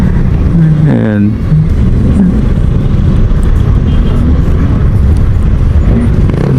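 Vehicle engine idling while stopped in traffic, a low steady rumble running throughout beneath someone talking close by.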